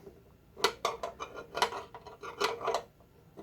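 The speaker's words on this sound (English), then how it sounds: "I'm going to use a 1/2 inch wrench, and I'm going to loosen the bolt in the back by about 1/2 turn to a full turn" A half-inch wrench loosens a bolt at the back of an Annealeez machine to free the nozzle, giving a series of sharp, close metallic clinks and clicks in an irregular rhythm with quiet gaps between them.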